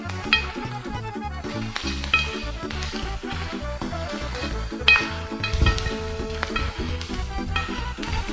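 Onions sizzling in a pan for Gagauz kavurma while being stirred, with steady frying hiss, rhythmic scraping strokes and a few clinks of utensil on the pan, fairly close.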